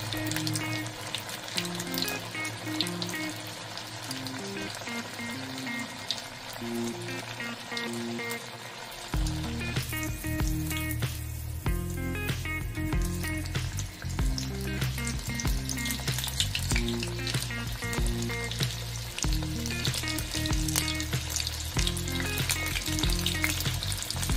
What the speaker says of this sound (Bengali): এবারে মাছগুলোকে ভেজে নেব। তেল গরম হয়ে গেছে